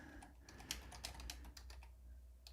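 Fast, quiet clicking of keys on a computer keyboard forms an irregular run of close keystrokes over a low background hum.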